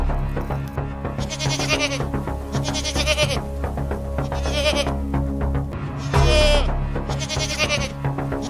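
Several goats bleat again and again, loud and close, their wavering calls overlapping one another above a constant low background drone.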